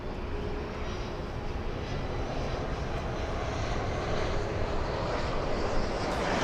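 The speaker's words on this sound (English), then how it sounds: "Big 777, we have the Philippines. Filipino 777." Steady, loud jet engine roar from a Philippine Airlines Boeing 777 at LAX on flight 113 to Manila, a continuous broadband rumble that swells slightly toward the end.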